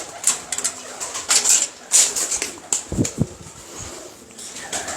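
A simple eye pigeon, a pet bird kept among a fancier's teddy pigeons, coos and flutters close by in short bursts, with bird calls scattered through the clip and no talk.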